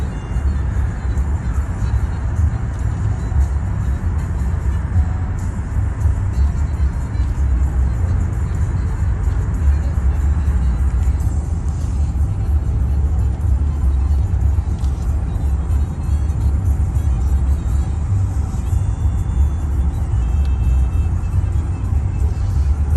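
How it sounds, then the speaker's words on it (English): Steady city traffic heard from inside a 2011 Rolls-Royce Ghost with a 6.6L V12, a continuous low road and engine rumble that stays even and muted throughout, with a voice occasionally talking over it. "Lots of traffic here."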